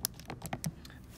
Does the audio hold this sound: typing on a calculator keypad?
yes